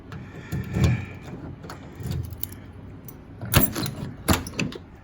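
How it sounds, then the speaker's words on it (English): Keys jangle in bursts and a door on a 1996 Chevy 3500 van unlatches and opens, close by, with sharp metallic clicks and rattles and no speech. "So we're gonna open this door."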